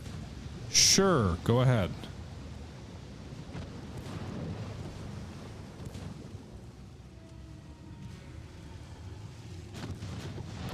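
Naval battleship gunfire in the game Ultimate Admiral: Dreadnoughts, a pair of loud booming salvos early on, then a low rumbling sea-and-wind ambience with a brief spoken line.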